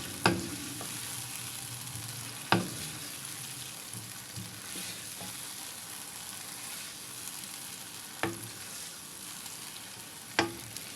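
Potato and eggplant sabzi fries with a soft continuous sizzle, broken by a few sharp clinks and scrapes of a stirring spoon against the pan, close and fairly quiet with no talk.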